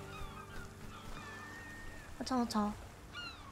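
Seagull cries in the video game Rime on a beach, a couple of short high calls over a steady game soundscape while someone talks quietly.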